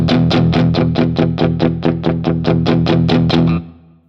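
Electric guitar played through a Fractal amp modeler, its tone shifting from a Tweed amp model cranked to full volume into a Plexi as an expression pedal moves: steady driven rhythmic strumming, loud and close, ringing out at the end.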